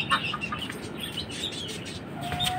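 Pet doves and pigeons feeding on grain give soft chirps and coos over a steady background hiss, with faint scattered calls throughout.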